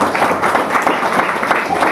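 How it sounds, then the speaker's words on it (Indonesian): Church congregation clapping together, a dense, loud wash of applause sustained throughout with crowd noise mixed in. "Tepuk tangan sekali lagi dong."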